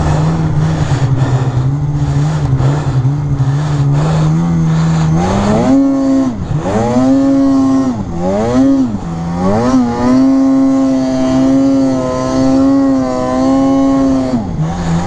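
An Arctic Cat snowmobile engine revs hard and loud in deep, packed snow drifts, rising and falling in repeated bursts of strained, high-pitched whine close by.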